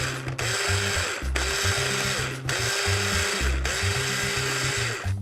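A Cuisinart CSB-179 Smart Stick hand blender with its chopper attachment whirs loudly while chopping garlic, running in several steady bursts separated by brief pauses, close up and with no talking.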